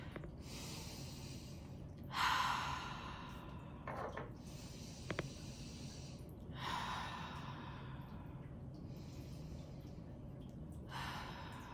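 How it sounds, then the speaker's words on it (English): Three deep, slow breaths drawn and released through the nose and mouth, each a soft airy rush with a sighing exhale, close and quiet with pauses between, no talking. "So I take 3 deep breaths."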